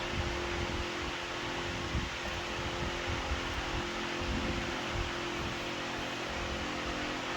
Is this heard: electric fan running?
yes